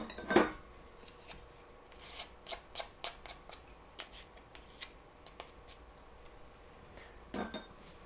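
A whisk or utensil taps and scrapes in a bowl of flour, salt, baking soda and baking powder for cupcake batter, giving a series of quiet, irregular clicks and clinks with a couple of louder knocks.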